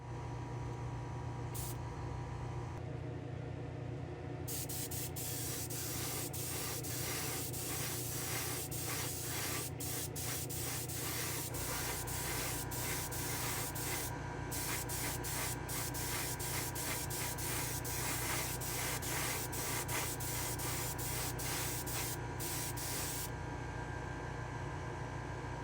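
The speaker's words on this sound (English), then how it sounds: "Let me go head over to the spray booth. We'll get this clear coated" An aerosol can sprays clear coat onto a Hot Wheels Plymouth Cuda endurance racer model car in a spray booth, a continuous loud hiss with short bursts and brief pauses throughout.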